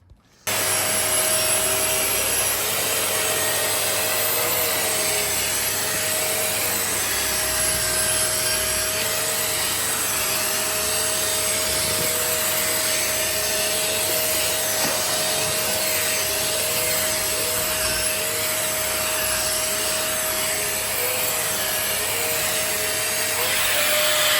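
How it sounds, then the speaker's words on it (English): Dyson Ball Animal 3 vacuum cleaner running with its tangle-free turbine tool gives a steady, loud motor whine and airflow roar with faint brushing rub throughout. "Now this is Dyson's tangle-free turbine tool, which uses 2 counter-rotating discs with bristles that are really stiff"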